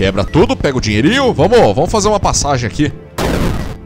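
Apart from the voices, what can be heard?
explosion in a video game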